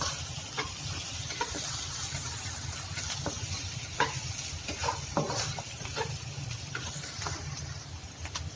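Ripe chillies and onion sizzle steadily in a hot pan for a mee hoon fry, a dense hiss broken by scattered clicks and scrapes of stirring, with no talking.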